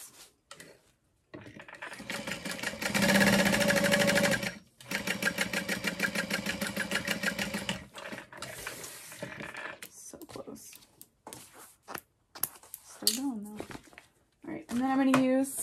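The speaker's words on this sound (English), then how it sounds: "sew two parallel lines." A domestic sewing machine stitches two parallel lines along the center pieces of a fabric backpack, running in fast rhythmic bursts with short pauses between runs; a voice is heard briefly near the end.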